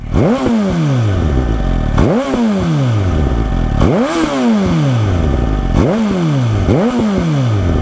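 A Suzuki Katana 2019 motorcycle with an aftermarket exhaust, revved repeatedly while standing still: five loud, close throttle blips that rise sharply and fall away, over a steady idle.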